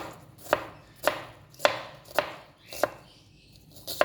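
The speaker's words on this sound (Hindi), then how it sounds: "प्याज को मैंने इस तरह कट मार दिया। अब इसको और बारीक करेंगे" A knife chops onion finely on a cutting board, landing about seven crisp, evenly spaced strikes close by with no talking.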